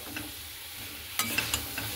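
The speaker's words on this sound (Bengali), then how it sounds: "আলুটাকে দিয়েও খুব ভালো মতো করে নাড়াচাড়া করে নেব একসঙ্গে খুব ভালো মতো করে" Fried potato and soybean curry are stirred in a hot pan, a soft sizzle running underneath, with several distinct scrapes of the spoon near the end.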